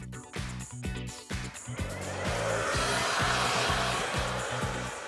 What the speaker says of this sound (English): Just blasted my hair so it's all dry now